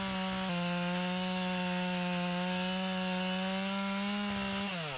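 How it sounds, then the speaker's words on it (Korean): A power saw cuts a termite-killed tree into firewood lengths, its engine holding a loud, steady droning whine close by, dipping slightly in pitch as it bites into the wood and rising again near the end. "장작으로 쓰기 좋은 사이즈로 잘라줍니다."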